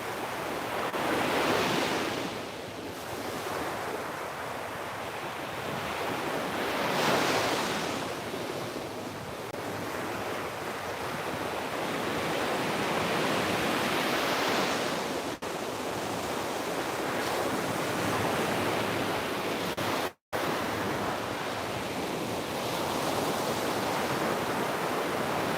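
Ocean waves rolling and breaking continuously, a broad wash of surf with slow swells rising and falling, mixed with some wind noise and no talk.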